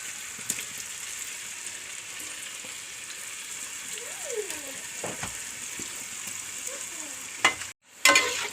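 Kaliyadakka appam dough balls fry in hot oil, giving a steady soft sizzle and crackle throughout, with a few brief clinks and knocks near the end.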